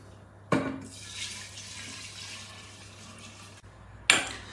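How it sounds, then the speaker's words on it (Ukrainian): Alcohol solution poured into a jar for a French-style honey tincture: a steady liquid stream splashing and gurgling for about three seconds, then a short second pour, near and moderately loud with no talk. "Ну і тепер додаємо наш спиртовий розчин."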